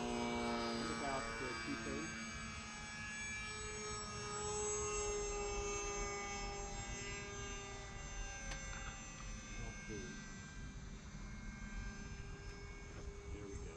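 A Flite Test Bloody Baron (Blue Baron) RC model airplane drones steadily on partial throttle, a continuous buzzing engine tone with harmonics held throughout, fairly close and loud, with faint voices underneath.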